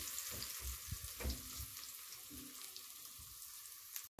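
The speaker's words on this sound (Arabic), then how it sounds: "قلبيها بقى وخليها تاخد معاكي التشويحه تمام" Onions sauté in a pan with a soft, steady sizzle and occasional stirring scrapes, faint and close with no voices.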